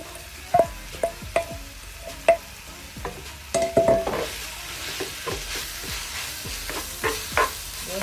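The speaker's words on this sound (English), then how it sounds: "That's enough of the palm oil, and we're just going to add the great okra." Okra frying in palm oil for a seafood fisherman soup, stirred with sharp repeated scrapes and clacks of a utensil over a steady close sizzle that swells louder in the second half.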